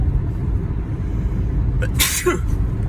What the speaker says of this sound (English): I'm sneezing up like a motherfucker.